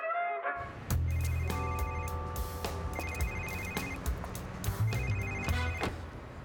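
A telephone rings with repeated electronic trilling bursts over a steady tonal background, fairly even and moderately loud, with no talking.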